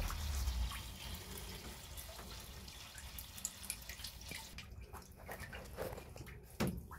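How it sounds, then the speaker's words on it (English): Tap water runs steadily into a sink while strawberries are washed, a continuous close splashing flow with small drips and sloshes, no voices. "Now we'll wash these strawberries off."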